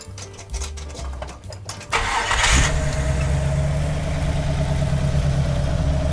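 Classic car engine cranks with rapid starter clatter, catches with a burst of revs, then settles into a steady, close idle rumble.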